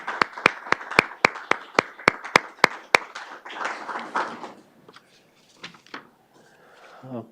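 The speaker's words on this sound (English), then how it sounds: "Colleagues, this warrants a round of applause." A few people at a municipal council meeting give a round of applause. A dozen crisp, evenly spaced claps sound close and loud, then trail off into scattered, fainter claps and rustling.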